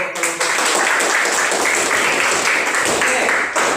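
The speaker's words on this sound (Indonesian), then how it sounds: "Tepuk tangan untuk kelompok." A classroom group of teacher trainees bursts into dense, loud clapping for a presenting group, sustained evenly for several seconds before stopping abruptly, with some voices mixed in.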